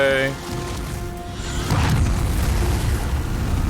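A deep booming explosion swells and rumbles on, with a lingering roar from the Demon's Souls game soundtrack in Stonefang Tunnel and a voice speaking faintly underneath.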